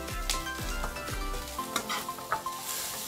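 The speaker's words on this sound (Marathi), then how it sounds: "आपण थोडं हलवून घेऊ, नाही तर ते लसूण आधी लागून जाईल." Garlic sizzles in a hot pan for spring roll filling while a utensil stirs it, giving repeated scraping strokes over a steady frying hiss, close and fairly clear.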